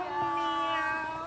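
A person imitates a cat's meow in one drawn-out, tonal, nasal call, close and clear, at a birthday party.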